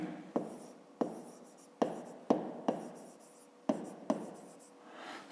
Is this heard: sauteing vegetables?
no